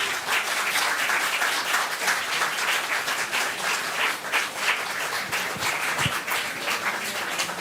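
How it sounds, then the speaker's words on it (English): Lecture audience at a memorial architecture lecture giving a sustained round of applause, many hands clapping in a dense, even roar that stays loud from start to finish. "this round of applause is an expression of our deepest gratitude once again"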